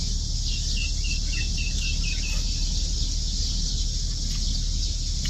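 Many birds call through a steady morning outdoor ambience, with a run of repeated high chirps early on over constant background hiss, no talk.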